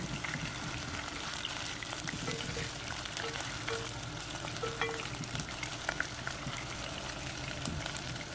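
Meatballs frying and browning slowly in a pan, a steady broadband sizzle throughout with faint scraping as they are turned, close and fairly even in level.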